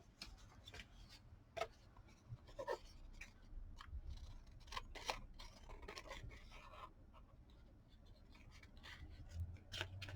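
Scissors snip through paper while a word is cut out for a Valentine junk-journal page: faint, close, irregular crisp snips and rustles, with soft handling sounds between the cuts in a quiet room.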